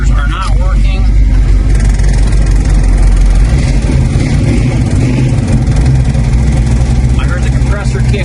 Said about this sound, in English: I heard the compressor kick on.